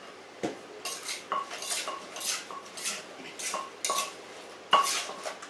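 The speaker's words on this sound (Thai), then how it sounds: "ตำทุกอย่างให้เข้ากันก่อนนะคะ ไม่ต้องตำแรงนะคะ เอาแค่โขก" Papaya salad ingredients with fish sauce and shrimp paste are pounded gently in a mortar, giving a string of light, fairly close knocks and clinks at an irregular, unhurried pace with no talking.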